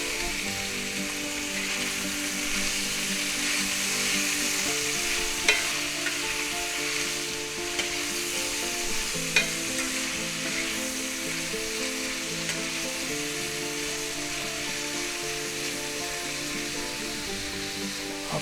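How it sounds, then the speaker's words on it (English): Ground beef and vegetables stir-fried in a pan over medium-low heat, giving a steady, close sizzle with occasional scrapes and clicks of stirring throughout, no talking. "Let's go ahead and mix our vegetables in."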